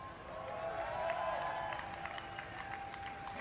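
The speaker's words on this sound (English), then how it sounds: "give a cheer for Roots Vibe" Crowd applause and cheering ring out as a player is introduced at a gaming tournament, a steady wash of clapping with whoops rising over it for the whole stretch.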